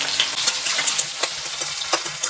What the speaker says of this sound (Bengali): তেলটা গরম হয়ে যাওয়ার পর এতে দিচ্ছি আমি 50 গ্রাম পেঁয়াজ কুচানো।